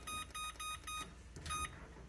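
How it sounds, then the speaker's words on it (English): A kitchen timer set for fifteen minutes gives five short, high electronic beeps in a steady rhythm, faint over a quiet room. "I'm gonna set the timer for 15 minutes"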